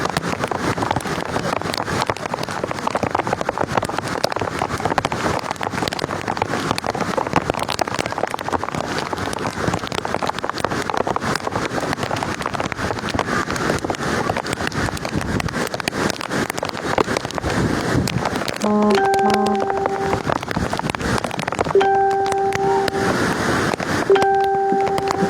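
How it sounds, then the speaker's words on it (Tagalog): Strong river current rushing under a bridge at Barangay Makabog, Sorsogon City, during a typhoon, a dense, steady roar of water like heavy rain, loud and constant, with brief electronic beeping tones near the end. "malakas ang current ng tubig dito po sa may tulay sa may Barangay Makabog"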